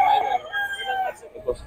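A young rooster (stag) crows at a market, a short rising-and-falling call up close, with a brief cluck or bird note trailing after.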